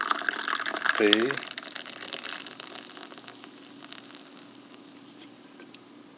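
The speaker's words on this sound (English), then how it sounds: "Calamansi citrus and strawberry fizzy water into this mug." Calamansi citrus and strawberry fizzy water is poured into a mug, splashing and trickling briefly, then fizzing and pattering softly as the carbonation settles, with a brief spoken word near the start.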